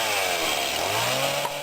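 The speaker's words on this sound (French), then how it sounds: "c'est pas grave, une tronçonneuse ça suffit" A chainsaw runs at a loud, steady buzzing roar while its chain is used to open a beer bottle.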